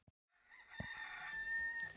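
A cartoon rooster crows once, clear and close, in the video game Bear & Breakfast, following a faint click and heard alone.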